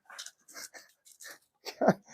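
A dog whimpers and whines outdoors in short, soft bursts, a louder yelp near the end, fairly close and alone.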